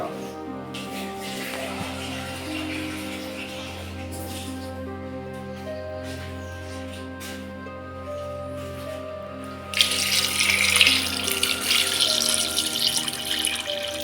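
Water poured into a pot while preparing a herbal oil remedy, a steady splashing stream running throughout and growing louder and brighter toward the end, with no talk.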